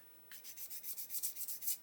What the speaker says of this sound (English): So what I'm going to do is take a sanding stick